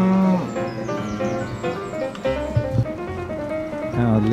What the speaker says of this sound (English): Big herd, outdoor cows.